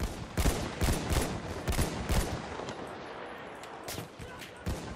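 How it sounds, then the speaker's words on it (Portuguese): Rapid gunfire crackles through a Battlefield 1 battle near a fort, a string of sharp shots at steady intervals with some louder cracks, over a continuous roar of combat. "tem sniper atirando em mim"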